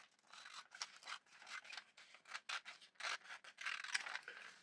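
Scissors snip through glossy pages of free supermarket and discount-store magazines in a quiet room, close, soft crisp cuts and paper rustles in an irregular rhythm of short strokes.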